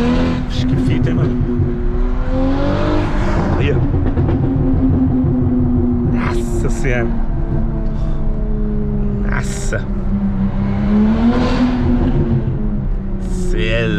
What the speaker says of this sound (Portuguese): do lado de fora o carro ainda faz mais barulho